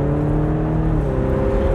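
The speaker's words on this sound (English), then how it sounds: "Some nice turbo noise there." Steady whirring turbo and engine note from a 2020 BMW Z4 20i (G29) sports car accelerating, loud and continuous with rising tonal hum, no voices.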